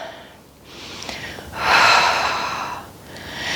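Deep workout breathing, a big inhale followed by a long exhale, airy and close, with a swell of breath noise in the middle and quieter breaths on either side.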